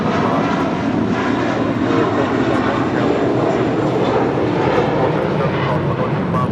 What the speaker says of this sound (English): Miss JetBlue 1524 taking off to JFK on an A321